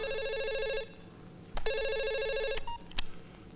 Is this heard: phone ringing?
yes